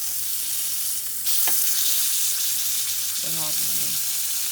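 Bacon and steak sizzle on a grill beside grilled mushrooms, a steady close crackling hiss that holds throughout and grows a little louder partway in, with a brief voice speaking over it near the end.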